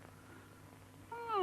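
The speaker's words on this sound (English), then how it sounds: ""I've no whiskers," meowed the cat." A house cat gives a single short, rising meow as a sound effect in a children's audiobook story, heard close and clear near the end over a faint background hum.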